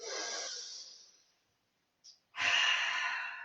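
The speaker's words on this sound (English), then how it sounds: "Take a big breath in and out." A deep breath during a yoga session: a long, loud, airy inhale that fades out, a brief silence and a tiny catch, then a strong breathy exhale, close up with no talking.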